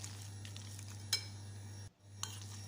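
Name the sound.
stirring tuna and vegetable ingredients together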